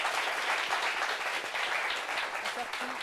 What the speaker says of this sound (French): Applaudissements pour ce vert-là, s'il vous plaît.